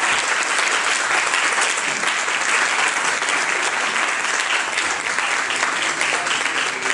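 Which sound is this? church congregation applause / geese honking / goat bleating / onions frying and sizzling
church congregation applause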